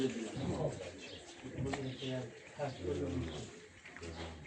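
Racing pigeons returning to the loft in Novxanı coo softly and repeatedly beneath nearby talking.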